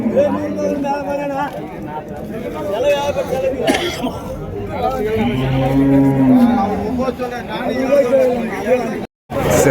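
Dairy cattle moo repeatedly at the Vaniyambadi cattle market amid a bustling crowd, with people talking loudly nearby throughout.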